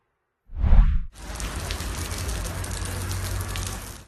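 Steady rain falling during a strange, brief downpour, a dense even hiss that starts abruptly after a short low rumble and continues at constant strength.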